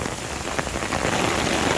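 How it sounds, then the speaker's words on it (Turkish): Heavy rain pours down outdoors near an Opel Insignia during a downpour, a loud, dense, unbroken hiss of drops striking surfaces close by. "Öyle bir yağmur var."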